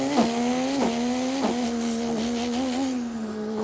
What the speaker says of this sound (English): F2, this is what it sounds like.